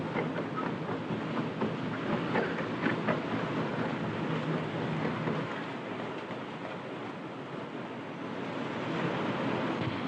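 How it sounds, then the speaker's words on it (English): An electric suburban train runs into a London main-line terminus in 1944, a steady broadband rumble and rush of wheels on rails that holds alone for the whole stretch, with a faint clatter now and then. "Every 2 minutes, an electric train comes into this station"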